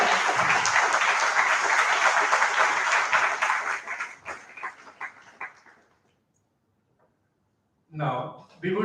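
Audience applause welcomes a speaker at the Abhivyakti'23 event, a loud dense burst of clapping that thins out and fades to silence, followed by a voice starting to speak near the end.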